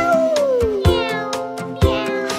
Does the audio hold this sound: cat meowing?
yes